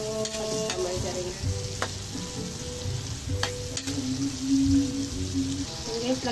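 Garlic frying in margarine in a pan, a steady close sizzle with occasional crackles and stirring scrapes, no talking.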